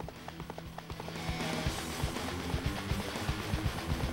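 A horse gallops in Dynasty Warriors 4, with rapid rhythmic hoofbeats pounding steadily over battlefield ambience and game music, moderately loud.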